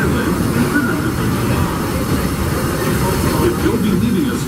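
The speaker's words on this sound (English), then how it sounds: "Please remain seated until the train comes to a full and complete stop inside the station." Disneyland Railroad train pulling into and halting at the New Orleans Square station, a steady loud low rumble and hiss of rolling cars close by, continuous throughout without speech.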